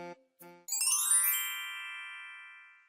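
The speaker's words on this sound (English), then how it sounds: "how long were you planning on ringing my doorbell?" A doorbell chimes at a home: two short low buzzing tones, then a bright ding-dong that rings out and slowly fades over about two seconds, heard alone.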